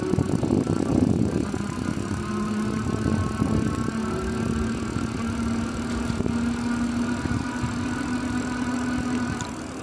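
Segway Myon e-bike with a 500-watt motor climbing a steep hill on throttle alone, carrying a rider of about 180 pounds; a steady whirring motor drone with a rising tone under continuous wind and road rumble, close.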